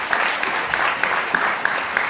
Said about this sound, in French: sous un tonnerre d'applaudissements, s'il vous plaît